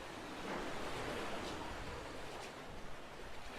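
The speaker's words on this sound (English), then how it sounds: "you hear the sea lapping in, and it is beautiful" Gentle sea waves lapping on a Jamaican shore where a hurricane came ashore: a continuous soft wash of surf with mild wind noise, faint swells rising and falling, no voices.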